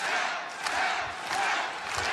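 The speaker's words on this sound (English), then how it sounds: "the crowd rallying behind Zach Knight here." Wrestling crowd at a match cheering and chanting loudly in a dense continuous roar, with swelling rallying shouts rising and falling across the arena.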